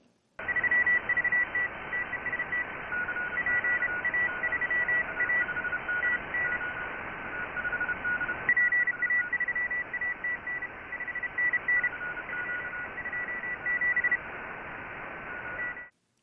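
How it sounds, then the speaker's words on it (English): Real off-air Morse code from a radio receiver: a steady stream of tone keying in dots and dashes, carried continuously over a hiss of band noise, with a slight shift in the signal partway through. "This is a recording of some real Morse code recorded off air."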